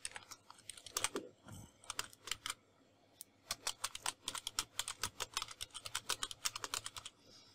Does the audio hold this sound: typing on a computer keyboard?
yes